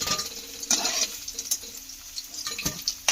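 Potatoes fry in oil with a low, soft sizzle under sharp metallic clinks and scrapes of a utensil against the pan, close up with no talking.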